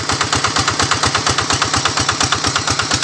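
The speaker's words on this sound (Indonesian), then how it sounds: "oleh mesin diesel Kubota 110DI2T" A Kubota 110DI2T diesel engine driving a 6-inch water pump idles at low RPM, a loud, even, rapid chugging thump close by with no voices.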